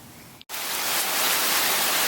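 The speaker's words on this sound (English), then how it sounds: "halfway through our job, rain." Steady rain hiss begins abruptly after a brief gap and continues loud and even, falling outdoors around an RV during repair work.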